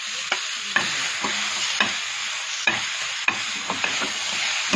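Mushrooms frying in a pan, a steady close sizzle broken by repeated sharp scrapes and clicks of a spatula stirring at irregular intervals, with no talk.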